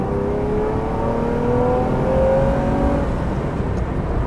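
A Ferrari 330 GTC engine pulls hard under acceleration while driven, a steady loud growl whose pitch climbs smoothly over several seconds before easing off, with no voices over it.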